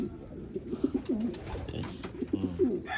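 Pigeons coo close by in soft, repeated throaty calls, with a few faint background noises.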